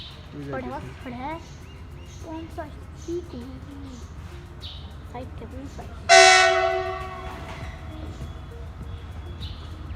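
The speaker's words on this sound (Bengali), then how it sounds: "তোরা দেখেন যে এখন একটা ট্রেন আইছে" A train pulls into Goalpara station and sounds a loud, sustained horn that starts abruptly midway and slowly fades, following earlier station ambience with people talking and a few bird chirps.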